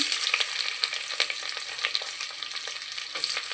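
Sliced onions fry in hot oil with cardamom, cloves, cinnamon and star anise, a close, continuous sizzle with crackly bursts and light stirring scrapes, and no voice over it.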